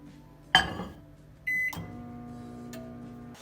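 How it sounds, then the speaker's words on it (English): A steady low electrical hum of a microwave oven running, with a short bright beep partway through and a few clicks and thumps nearby. "I'm gonna go ahead and put that in the microwave"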